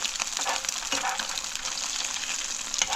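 An egg fries in a frying pan with worn, peeling nonstick coating, giving a steady, close crackling sizzle that runs the whole time with small pops and no talking.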